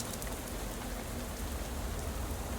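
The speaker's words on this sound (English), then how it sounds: "Ooh, that rain is loud." Heavy rain pours steadily in a video game, a loud, dense and unbroken hiss of falling water close at hand, with no voices over it.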